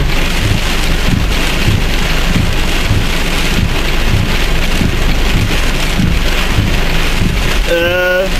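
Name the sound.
heavy rain from a passing thunderstorm cell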